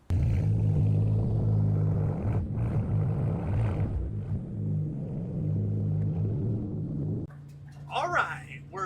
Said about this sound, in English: we're driving the BMW M4 GT4 race car